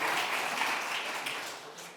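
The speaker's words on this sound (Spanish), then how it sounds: "Un tímido aplauso ha habido ahí." Brief, modest applause from a small audience at a talk on Spanish America, language and faith, a dense patter of clapping that holds steady then thins slightly over two seconds.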